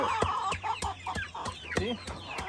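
Farm chickens cluck in short, repeated bursts close by, with quick sharp taps mixed among the calls and a low hum underneath.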